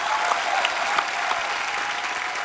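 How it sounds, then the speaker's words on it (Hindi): Studio audience on a televised comedy talk show breaks into steady, dense applause, a continuous wash of clapping with no voices over it. "जैस्मिन के लिए जोरदार तालियां।"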